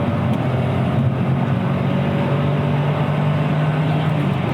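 A 1988 BMW M5 engine drones steadily as the car pulls hard after dropping down through the gears, a loud, even, continuous growl with road noise and no breaks.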